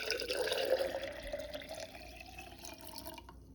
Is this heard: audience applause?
no